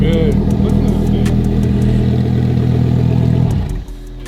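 A Lamborghini Huracan Technica on its stock exhaust idles and revs loud and close, a deep, steady engine roar that holds for several seconds before cutting off abruptly near the end.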